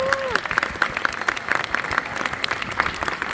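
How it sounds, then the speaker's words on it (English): A crowd claps steadily, with bright, dense applause throughout and a brief high tone at the start. "Yes, you can clap for that."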